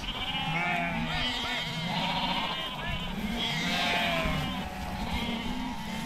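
Wild Irish hill sheep bleat repeatedly from a flock at close to middle distance, overlapping calls over a steady outdoor hum, with a voice calling in the background.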